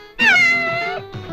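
A cat lets out one loud, close, drawn-out meow followed by a shorter, softer one.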